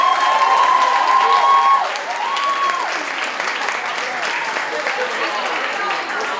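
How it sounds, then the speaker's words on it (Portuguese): A crowd applauds steadily for several seconds, with a brief shout or whistle over the clapping at the start. "Uma salva de palmas"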